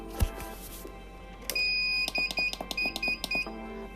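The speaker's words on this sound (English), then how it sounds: "I've got an alarm on my phone." A phone alarm sounds a series of sharp, high electronic beeps in quick irregular bursts, loud and close, after a brief thump; no one speaks.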